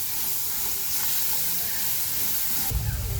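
Potato masala for vada pav roasts in a pan with a constant hissing sizzle, close and steady, with a louder low thump near the end.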